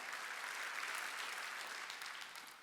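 A church congregation applauds during a Wednesday worship service, a steady wash of many hands clapping at a fairly faint level, heard alone for a few seconds.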